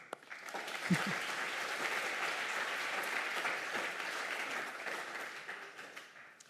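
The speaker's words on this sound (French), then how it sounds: "on peut l'applaudir" Audience applause at a medical faculty award ceremony, a dense steady wash of clapping that holds evenly for several seconds before thinning slightly at the end, with no voices over it.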